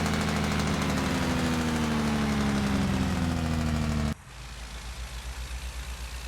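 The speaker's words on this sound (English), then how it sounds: "that sound there is the Drake brake or the engine brake" A truck's engine brake in American Truck Simulator, driving in Utah, gives a loud, steady, rattling drone that cuts off abruptly to a softer, pulsing engine idle.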